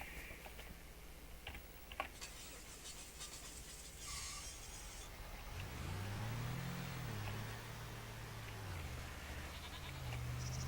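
Goats in the Farming Simulator 25 video game bleating in a long wavering call midway, with a second bleat near the end, over a steady low background drone.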